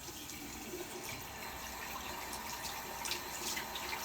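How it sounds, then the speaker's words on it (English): Water runs steadily from a sink tap at a faint, even level, a continuous splashing hiss with no voices over it. "And then I'm going to turn on the water."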